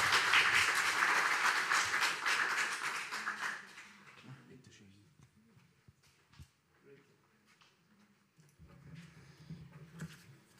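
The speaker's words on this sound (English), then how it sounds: "Then a big applause again for this beautiful presentation." Applause from a conference audience after a presentation, steady clapping for about four seconds before fading out, followed by quiet room noise and scattered low sounds.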